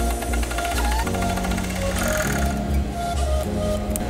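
A sewing machine stitches fabric pieces together for men's boxer shorts, running loud and steady with a fast mechanical needle rhythm, close up, with no voices.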